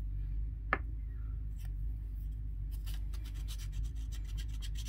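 Very fine red sandpaper, around 1,000 to 1,200 grit, rubbing by hand on a tiny dollhouse hair brush: faint, close scratchy rasping strokes in short bursts, with a light tick near the start, over a quiet hum.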